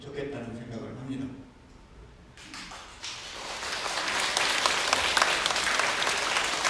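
Applause breaks out from a lecture audience at a special talk for Hangul Day. Someone speaks first, then a pause, then clapping starts and swells into loud, sustained applause that fills the rest.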